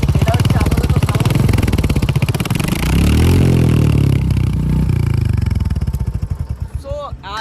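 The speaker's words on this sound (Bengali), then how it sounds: "এর একটু ইঞ্জিন নকিংয়ের সাউন্ড আসে" A 2024 Royal Enfield Hunter 350 motorcycle engine runs close by with a steady, thumping idle and a slight knocking, rising briefly in a rev before settling back to uneven pulses.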